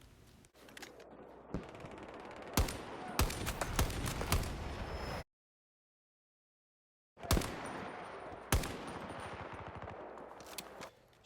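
Rapid bursts of automatic gunfire crack through a Battlefield 2042 firefight, with repeated sharp loud shots over a dense roar of battle noise, cutting out to total silence for about two seconds before the shooting resumes.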